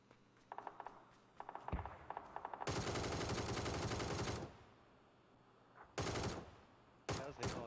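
Gunfire in PUBG: a rapid string of sharp automatic shots, then a long sustained loud burst, followed by further short loud bursts near the end, all close and prominent.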